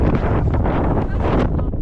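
Loud, steady wind buffeting the microphone on the slope of the Cerro Negro volcano in Nicaragua, a continuous roaring rumble with gusty surges and no voices.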